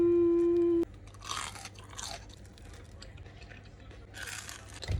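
A sourdough mochi donut is bitten with a few soft crunches, close and fairly quiet, after a sustained tone at the start; faint background noise continues underneath.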